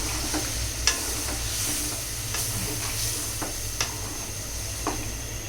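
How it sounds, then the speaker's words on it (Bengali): Tomato chutney is stirred in a hot pan over a steady sizzle, with a spoon clicking and scraping against the pan at irregular intervals, close and clear, with no voices. "এখন আবার একটু নাড়তে হবে"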